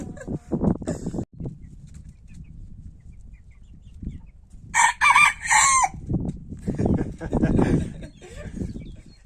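A rooster crows once, clear and fairly close, in the middle of the clip at a village house, while people talk quietly in Turkish before and after.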